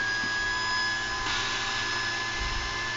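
A 1952 rotary inverter spins at high RPM with a loud, steady mechanical whine and hum that holds throughout, like a motor running flat out.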